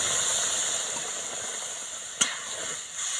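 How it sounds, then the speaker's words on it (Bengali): Milk poured into hot caramel for mishti doi gives a faint, steady steamy hiss, with one sharp click partway through and no voices. "এবার দিয়ে দিচ্ছি দুধ।"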